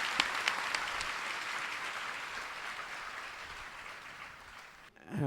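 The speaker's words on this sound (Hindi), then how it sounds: "आप सभी एक साथ ताली बजा के उनका" An audience applauding together to welcome Swami Ramdev at a diksha ceremony at Shantikunj, Haridwar, a dense steady crowd clapping with a few sharper claps early on, gradually easing off before cutting away at the end.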